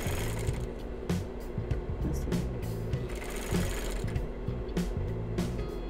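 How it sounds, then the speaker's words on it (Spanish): Sewing machine stitching straps onto a large bag made from recycled jeans, a close, steady mechanical hum with regular needle thumps and a few brief pauses. "Y cosemos."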